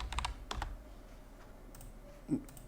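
A few scattered computer keyboard keystrokes in short bursts, close and fairly quiet, with long quiet gaps between them, as text is typed while building a CAPTCHA form in a C# ASP.NET tutorial.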